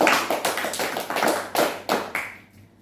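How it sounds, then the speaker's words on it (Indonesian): Classroom group applauding together after a group counselling session, a few loose rounds of fairly close clapping that trail off into quiet at the end. "Oke, tepuk tangan untuk semuanya."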